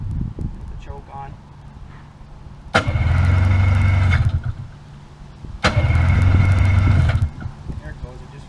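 A 1994 Yamaha Vmax 600 snowmobile, fresh out of summer storage with the choke on, is pull-started twice: each pull sets off a loud, close burst of engine clatter lasting over a second before dying back, with voices between attempts.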